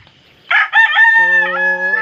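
A rooster crows loudly and close by in a homemade chicken coop, one drawn-out cock-a-doodle-doo preceded by a brief clucking squawk, with no talk over it.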